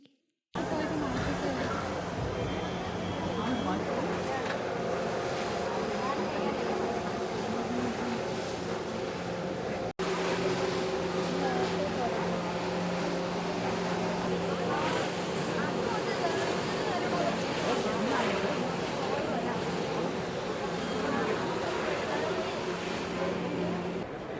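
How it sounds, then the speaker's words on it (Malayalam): Motorboats and jet skis run on a river during a river festival, giving a loud, continuous engine drone with water wash that persists steadily throughout without a break. "ഫെസ്റ്റിന് മുന്നോടിയായി fly boat, jet സ്കി, banana boating, bumper boating, kayaking എന്നിവ കാഴ്ചക്കാർക്ക് നവ്യാനുഭവമേകി."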